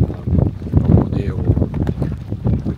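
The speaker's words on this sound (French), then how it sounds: "Il y a beaucoup de vent, il ne fait pas très beau." Strong, gusty wind roars steadily across a sailboat moored at a quarantine dock in light rain, with continuous rumbling buffeting and faint rigging and water sounds beneath.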